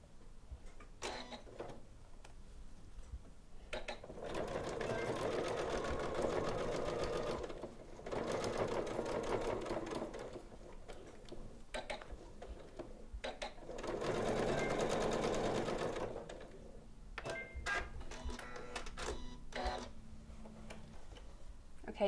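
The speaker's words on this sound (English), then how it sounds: "I'm just going to sew right on that line." A Janome sewing machine stitches a quilting seam in several bursts of steady, rapid whirring, separated by pauses with soft ticking and handling clicks.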